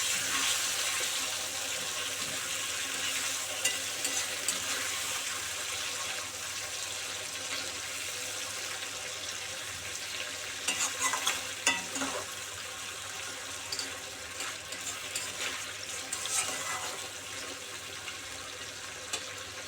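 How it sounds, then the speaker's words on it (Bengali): Hilsa fish simmering in a spice gravy gives a soft, steady bubbling hiss in a home kitchen, low and even throughout, with a few faint clinks and stirring sounds near the middle and no talking. "মাছটা আস্তে আস্তে ফুটছে"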